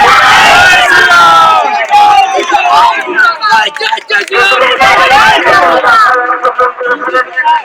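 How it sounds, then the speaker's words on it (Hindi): A dense, noisy crowd gathers outdoors in Bengal, many voices shouting and calling over one another in a loud, continuous babble that briefly dips before surging again. "यहाँ पर इतना भीड़ क्यों?"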